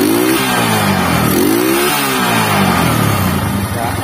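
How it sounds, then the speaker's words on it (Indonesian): A Honda Megapro motorcycle engine revs hard at high throttle, running on a capacitor instead of a battery, its pitch rising and falling in several surging sweeps, loud and close throughout with no talk. "Saya coba gas tinggi."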